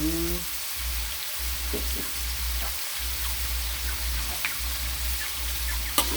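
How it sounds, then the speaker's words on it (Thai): Shrimp and cauliflower stir-fry in a pan with a continuous close sizzle and low hum, broken by occasional light scrapes and clinks of stirring. "แล้วก็ผัด ก็มาใส่ ผักกาดจ้า"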